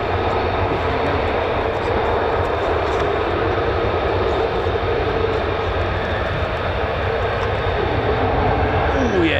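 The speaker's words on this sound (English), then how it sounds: "It's afterburner time." An F-15 or F-35 fighter jet at RAF Lakenheath roars on afterburner, a loud, sustained broadband rumble with no break. Faint voices are heard beneath it.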